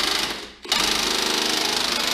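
An impact-style power tool tightens bolts on a Jeep XJ suspension, giving a loud, continuous rapid hammering whir with a brief dip and restart partway through.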